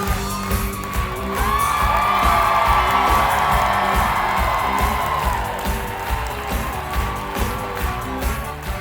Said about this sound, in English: the crowd was still going wild as Maya took her first Broadway bow